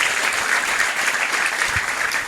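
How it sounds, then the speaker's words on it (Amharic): A church congregation claps for the Lord, a dense, even wash of applause from many hands that holds steady for a couple of seconds without pause. "አጨብጭቡ ለጌታ ክብር።"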